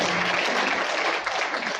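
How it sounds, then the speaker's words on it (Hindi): An audience at a Balarka business presentation breaks into applause, a dense, loud burst of many hands clapping that continues evenly for a couple of seconds. "एक बार जोरदार तालियां"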